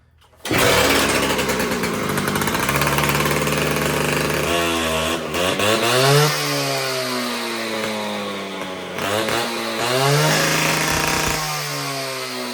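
Husqvarna K760 cut-off saw, a two-stroke engine fitted with its blade and freshly primed with a touch of choke, starts up and runs loud and close, revving up and down in repeated surges with no talk.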